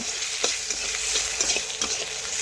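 Thin-sliced potatoes frying in hot oil for a spicy small hilsa fish dish, a steady close sizzle with scraping stir strokes recurring every half second or so, no voices.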